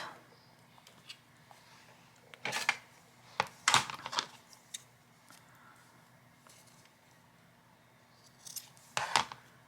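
Scissors cut white lace in a few short, close snips scattered between quiet pauses, with soft handling noises in between.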